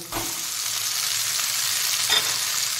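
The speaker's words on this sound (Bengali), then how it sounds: "এইবার হালকা ফ্রাই করে নেওয়ার পর এতে আমি সেদ্ধ করা নুডলসটা দিয়ে দেব।" Boiled Top Ramen noodles sizzle and fry in a hot pan while being stirred, a loud continuous hiss with a couple of scraping stir strokes, no voices.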